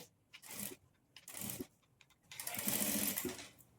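A sewing machine stitches piping onto a silk saree blouse in three short bursts of whirring needle action separated by brief pauses, faint and close.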